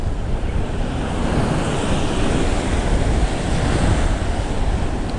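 Sea waves roll onto the shore at a fishing spot in a loud, continuous wash of surf, with wind buffeting the microphone throughout.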